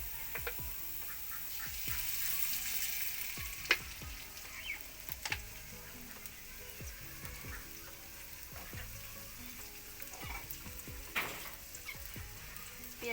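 Quiet, steady sizzle of onions frying in oil in a wok, with occasional soft clicks and scrapes against the pan.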